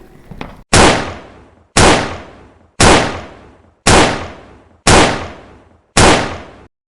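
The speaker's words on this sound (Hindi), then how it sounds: "वो अपनी बंदूक उठाता है और उसमें जितनी गोलियां हैं सब अजीजन पर चला देता है" A gun is emptied at a person in six loud, evenly spaced shots about one second apart, each a sharp crack followed by a decaying boom, after a brief lead-in rumble.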